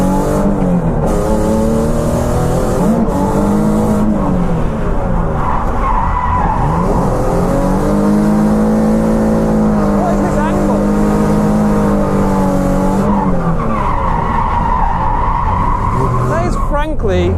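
A Nissan 370Z drifting, with continuous loud tire squeal and skidding over a revving engine whose pitch rises and falls through long slides, nearly nonstop throughout.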